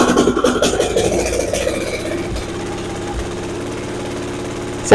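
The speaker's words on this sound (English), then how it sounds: "I forgot that my lapel mic absolutely hates the sound of engines running" A 1943 Gravely Model L walk-behind tractor engine with head gasket and magneto trouble runs close by, loud and rough at first, then settling to a steadier, quieter idle.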